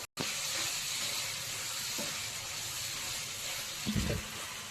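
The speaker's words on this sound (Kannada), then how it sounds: "ಚಿಕನ್ದು ಹಸಿ ಸ್ಮೆಲ್ ಹೋಗೋ ತನಕ ಫ್ರೈ ಮಾಡ್ಕೊಬೇಕು" Chicken pieces frying in a pan with ginger-garlic paste and onion, a steady close hiss and sizzle running throughout with a brief louder crackle near the end.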